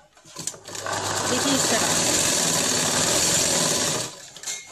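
Sewing machine stitching dhoti shalwar fabric along the buckram edge, a loud continuous whirring run of about three seconds with short bursts before and after, while someone talks over it.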